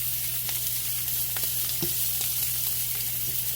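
Jumbo shrimp fry in garlic butter in a pan, a loud constant sizzle with scattered light taps and clicks as they are turned over.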